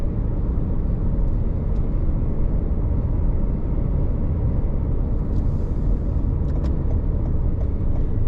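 A car passes on a winding mountain road through Suck Creek, Tennessee, a steady close rumble of engine and tyres heard from inside another vehicle, with no talk.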